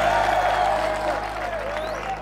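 Schoolchildren at G.S Muhato clap for a Rayon Sports football player during a team visit, a steady crowd applause with young voices mixed in and a low hum beneath.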